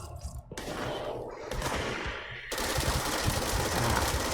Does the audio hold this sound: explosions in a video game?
yes